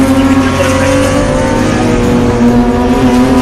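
A BMW M Performance Parts race series car, D Class, climbs a hill on a circuit, its engine droning loud and steady with a sustained, slightly shifting pitch throughout.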